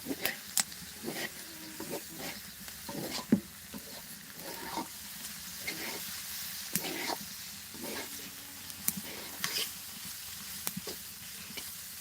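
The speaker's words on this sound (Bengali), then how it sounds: "আলু ভাজা চলছে" Potatoes frying in a pan with a steady sizzle, punctuated by repeated scraping and stirring clatter, close up.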